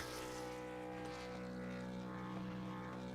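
Race truck engine revving at Talladega before qualifying, a steady loud drone that holds without a break, heard from a distance with broadband roar.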